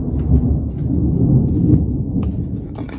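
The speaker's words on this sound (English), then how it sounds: "so the thunder is louder here and you hear pretty much all the noise outside" Thunder rolling overhead, heard from inside an attic during a storm: a loud, sustained low rumble with faint crackling and the muffled wash of weather outside.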